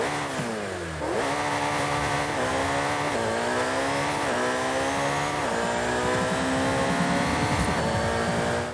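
A stock Ferrari SF90 Stradale hybrid in Forza Horizon 5 revs hard through a series of upshifts, each gear a rising engine whine followed by a brief dip, loud and close with no talk.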